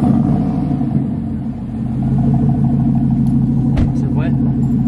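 A truck engine cranked and revved, a deep steady rumble with a brief dip then rising again, loud and close, with people talking over it.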